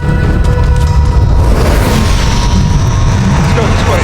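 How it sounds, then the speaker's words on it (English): A loud, rumbling blast roars continuously as a laser cannon directly hits a ship and explodes, with dense low-end noise throughout. "This laser cannon hits the ship directly and the shrouded light fades away."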